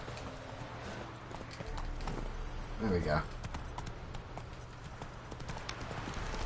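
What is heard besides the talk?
horse galloping hooves in video game Witcher 3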